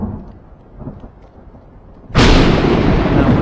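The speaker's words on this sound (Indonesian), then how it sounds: "beberapa detik kemudian suara petir pun menyambar dan cuaca pun berubah seketika" In a Korean drama scene, a sudden loud thunderclap breaks in after quiet murmuring and rolls on as a heavy, full rumble to the end.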